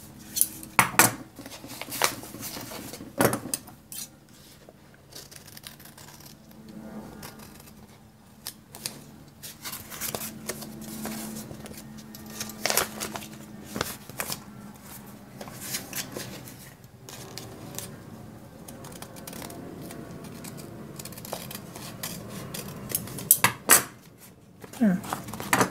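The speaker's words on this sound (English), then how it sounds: "I'm going to try to cut this off to follow that curve" Scissors snip and crunch through a Dollar Tree paper envelope along a curve, close by, in irregular bursts of cutting with rustling and handling noises between the snips, faint talk now and then.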